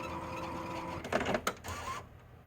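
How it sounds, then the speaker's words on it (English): An Epson L1800 DTF printer powering off gives a brief burst of mechanical clicks and whirring, then settles as its hum fades out. "the next step is to turn off your printer"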